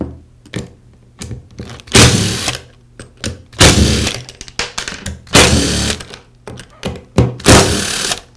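A powered screwdriver removes the motor housing screws from a Porter Cable sander, sounding as four loud, close whirring bursts of about a second each, separated by quieter handling clicks.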